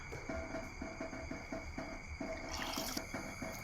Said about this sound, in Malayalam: ഇനി നമുക്ക് പുളി ഒഴിച്ച് കൊടുക്കാം.